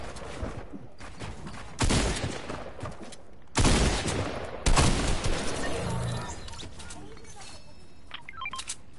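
Loud shotgun blasts in an arena duos shooter game, three heavy bursts spaced a couple of seconds apart with clattering game effects between them, while a voice talks faintly underneath.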